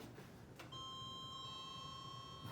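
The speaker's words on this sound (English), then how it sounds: "let's hear the down chime" A single bright electronic down chime from a Kone traction elevator rings out and sustains steadily in a quiet apartment building, preceded by a faint click.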